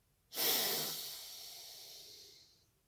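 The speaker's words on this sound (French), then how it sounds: "on va faire une grande inspiration" One deep inhalation during a breathing exercise, a close, airy breath that starts abruptly and fades slowly over about two seconds, heard alone without talking.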